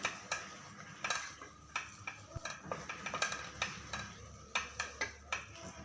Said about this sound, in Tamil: இப்படி நல்லா கிண்டணும். எப்படின்னா வந்து பாலும் வந்து பீட்ரூட்டும் மிக்ஸ் ஆகிற வரையும்.